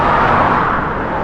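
Steady roar of car traffic on a rural South Australian road near the wine valleys, a continuous loud broadband rush of tyres and engines with no gaps.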